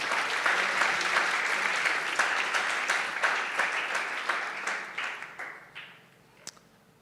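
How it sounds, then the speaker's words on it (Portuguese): Church congregation applauding in praise, a dense, sustained wash of many hands clapping close by that holds steady for several seconds before thinning out and fading toward the end. "Aplauda o Senhor Jesus."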